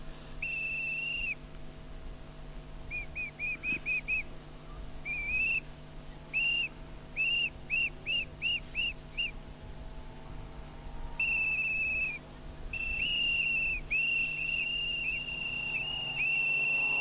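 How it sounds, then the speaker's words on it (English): Marshals' whistles blowing at a car rally, with shrill blasts coming in long runs and short rapid chirps over a steady low rumble of engines, one whistle near and insistent. "the marshals' whistles blowing furiously in the background there"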